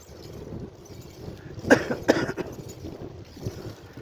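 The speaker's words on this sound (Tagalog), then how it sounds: "Pag malamig, lumalabas yung ubo." Two sharp coughs in quick succession outdoors in cold, windy weather, close to the microphone over a background of wind rumble.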